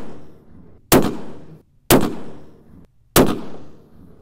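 A Christensen MPR rifle fitted with a muzzle brake fires three loud, sharp shots about a second apart, each with a short outdoor echo.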